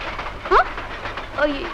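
Moving train in an old Tamil comedy film scene, a steady rumble of rolling wagons with faint rhythmic clatter, and brief voices heard over it.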